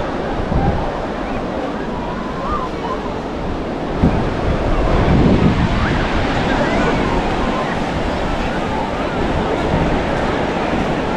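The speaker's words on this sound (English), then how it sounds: "The famous Manly Beach" Surf breaks at Manly Beach in Australia, a loud, continuous roar with wind buffeting the microphone and a swell of crashing water around the middle. Faint voices may sit underneath.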